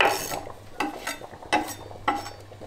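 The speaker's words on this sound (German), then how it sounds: "Ich habe jetzt 60 Gramm von meinem durchwachsenen Speck in kleine Würfel geschnitten und werde die jetzt in die Pfanne tun" Diced streaky bacon, about 60 grams, dropped into a frying pan and stirred, giving four scraping, clattering bursts spaced roughly half a second apart over a soft sizzle, with no voices.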